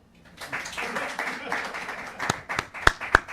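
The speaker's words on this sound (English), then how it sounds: "Thought there'd be more claps." Scattered, sparse clapping from a small audience at a late-night comedy show, a few individual claps rising toward the end, with someone talking over it.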